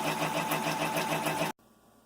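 An embroidery machine sews a satin stitch on a felt card, a fast, even mechanical whirring with rapid rhythmic needle beats, close and steady, then cutting off abruptly near the end into near silence.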